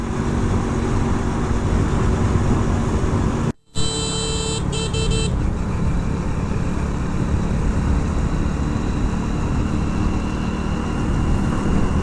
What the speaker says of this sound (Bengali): এই যে আমি এখন বাইক নিয়ে ঘুরে বেরিয়েতেছি